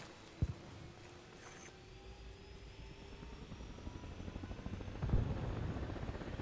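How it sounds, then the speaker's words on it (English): Helicopter taking off in the video game ARMA Reforger, a low rotor and engine rumble heard at a distance that grows steadily louder, with a sharp gunshot-like crack near the start. "Sounds like that heli's taking back off"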